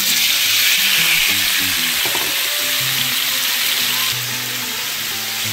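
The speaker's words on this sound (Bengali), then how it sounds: "আমি এখন তেলে দিয়ে দিচ্ছি মাংসগুলো" Marinated beef pieces deep frying in hot oil for Szechuan beef, a loud constant close sizzle with bubbling and a few utensil clinks, the hiss easing slightly near the end.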